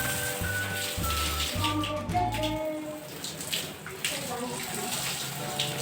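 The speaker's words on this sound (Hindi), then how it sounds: "पानी से इसको अच्छे से धुल दूंगा" Water running from a household tap while an AC filter is rinsed clean, a steady splashing stream with brief tonal hums early on and faint clatter, no speech.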